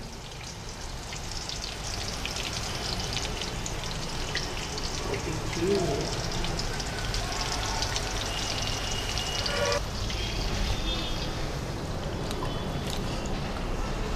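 Chicken sticks deep frying in hot oil over a medium flame, a steady dense crackle and sizzle that fills the whole stretch without pause, with a few faint clinks and no talking.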